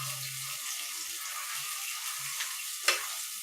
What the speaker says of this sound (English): So we have the shallots heating up in there.